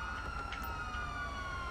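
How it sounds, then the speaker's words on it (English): An ambulance siren in the video game Grand Theft Auto V sounds as a sustained, wavering electronic wail. It carries steadily at moderate distance and is faint in the mix. "Did you really get an ambulance?"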